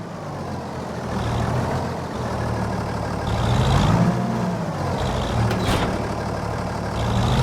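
Mercedes DLC truck engine in Farming Simulator 25, a steady low rumble running throughout with slight swells, plus a brief hiss like an air brake near the middle.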